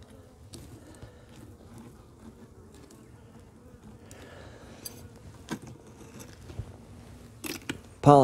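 Bee buzzing as it gathers pollen, a faint close drone with scattered clicks and rustles, building toward a louder burst at the end.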